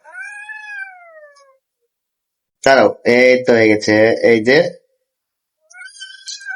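A cat meows while its nails are being trimmed at home. One long, rising and falling meow comes first, a shorter meow follows at the end, and a person talks in between.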